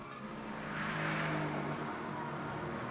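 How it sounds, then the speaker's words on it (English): A Mercedes-AMG GT R engine drones steadily at high revs while drifting through tyre smoke, with a rising and falling whir as the car slides, heard somewhat distant and continuous. "Make a lot of noise while sliding through a cloud of its own tyre smoke."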